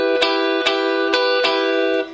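Guitar strummed with the fretting fingers held down on the strings, four quick rhythmic strums letting a bright chord ring out close and clear, the last ring cut short.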